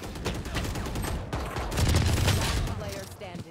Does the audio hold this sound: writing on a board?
no